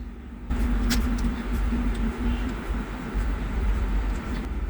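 Four Emax drone motors driven by SpeedyBee ESCs on a SpeedyBee F405 Mini flight controller spin up abruptly and keep running, a loud, close, steady buzzing drone with a humming tone, no talk over it.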